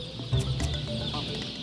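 White-feathered broiler chickens at a large poultry breeding farm cluck in short, close bursts over a steady background hum of the barn.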